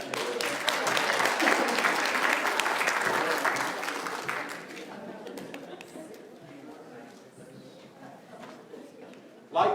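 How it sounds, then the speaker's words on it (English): Loud clapping from an audience that builds, holds for a few seconds, then thins out and fades to scattered claps. "give my volunteers a round of applause"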